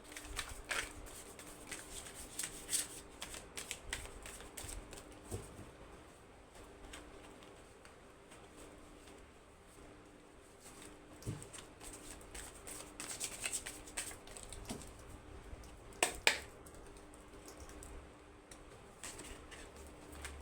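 Tarot and goddess cards being handled and shuffled, soft quiet riffling and flicking in scattered bursts over a faint room background, with a few louder slaps of cards near the end.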